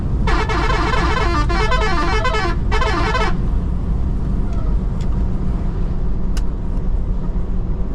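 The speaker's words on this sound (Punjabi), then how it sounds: "ਹਾਰਨ ਸੁਣਾ ਦੇਗਾ ਤੁਹਾਨੂੰ ਮੁੰਡਿਆ ਹਾਰਨ" A car horn honks on a highway in a repeated pulsing pattern of several blasts over steady road and engine noise, then stops while traffic rumble continues.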